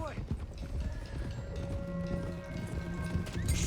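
Horses galloping in Red Dead Redemption 2 while driving a herd toward Clemens Cove, with steady clip-clop hoofbeats and a brief whinny under game music and ambience throughout.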